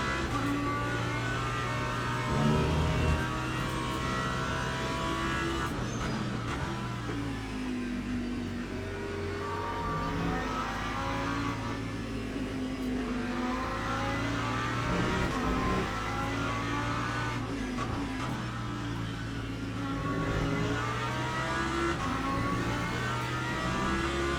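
A GT3 race car engine at Spa in Le Mans Ultimate, droning steadily with rising and falling revs as the throttle is lifted and reapplied, moderately loud and continuous throughout.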